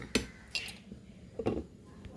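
A metal lid goes onto a pot of snakehead (varal) fish curry with a few short, close metallic clinks and clatters, spread unevenly over about two seconds in a quiet kitchen.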